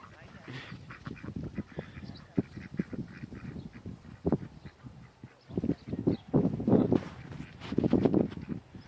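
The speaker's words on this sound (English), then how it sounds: "So I guess this is the running of the ducks" A flock of ducks being herded along a road quacks in a busy, overlapping chorus of nasal calls close by, with voices talking now and then.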